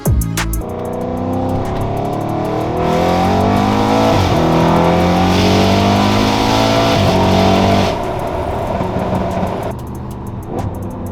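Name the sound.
car exhaust revving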